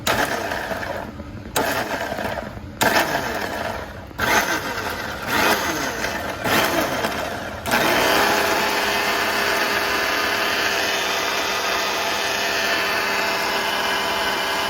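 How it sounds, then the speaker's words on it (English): Mixer grinder blending egg curry gravy in short pulsed bursts that break off and restart, then a long steady high whirring run, loud and close, with no talking. "Look at the gravy that I ground in the mixer."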